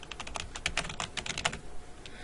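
Rapid typing on a computer keyboard while entering a short test description into a Blackboard page, a steady run of close, crisp key clicks that stops near the end, with no talking.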